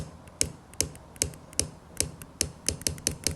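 A series of crisp, distinct mechanical clicks from the turret of a Falcon Endura S40i 5-40x56 rifle scope, evenly spaced at first and then quicker, close up with nothing else in the background.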